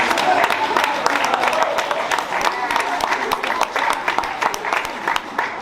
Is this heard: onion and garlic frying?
no